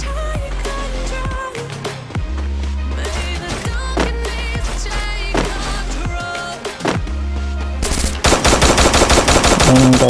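Automatic gunfire rattles in a mobile shooter video game, loud repeated bursts over a droning game soundtrack, ending in a dense continuous volley.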